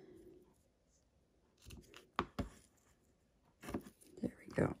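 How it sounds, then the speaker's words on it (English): Ribbon scissors snip through ribbon on a handmade card in a few quick, soft cuts, close but faint, with small handling rustles around them. "let's just trim that off with my ribbon scissors"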